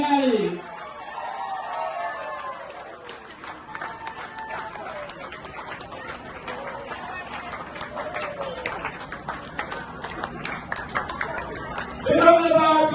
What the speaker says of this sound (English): A big round of applause for His Excellency President Mohammed Irfaan Ali.